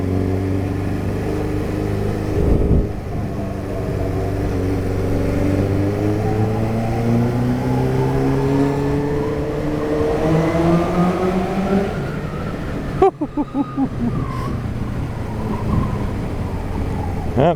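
A Kawasaki Z650 motorcycle on a test ride pulls away with its exhaust rising through the gears in a long climbing drone, loud and close against wind noise, followed by a brief burst of rapid pops as it backs off.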